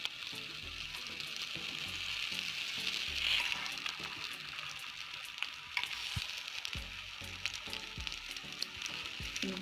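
Shami kebab patties for an egg burger fry in a pan with a steady, bright sizzle and occasional spattering pops. They sound close and continuous, and no one speaks.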